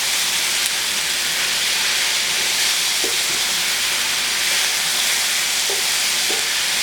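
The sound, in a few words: garlic frying and being stirred in a pan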